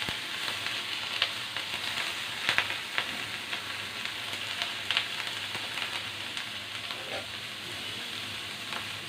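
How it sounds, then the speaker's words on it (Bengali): Onion and green chilies fry in hot butter with a steady, even sizzle, broken by soft scattered ticks and scrapes as they are stirred. "এখন আমি এর মধ্যে দিয়ে দিব পেঁয়াজ, দিয়ে দিব কিছু কাঁচামরিচ, দিয়ে একটু নেড়ে দিব।"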